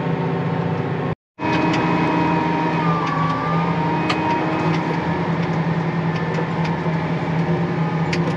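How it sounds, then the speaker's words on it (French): A tractor engine labours uphill on a gentle false-flat grade at 1800 rpm, a loud steady drone with a constant low hum and whine. A brief dropout interrupts it early, then the engine carries on alone. "Vous voyez là, mon moteur est à 1800 tours."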